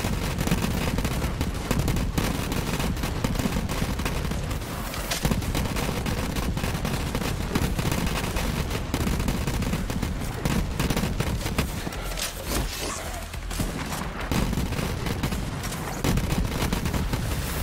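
Flakker legendary shotgun from Borderlands 3 fires continuously in a dense, loud barrage of blasts and explosions with no let-up, layered with game effects throughout.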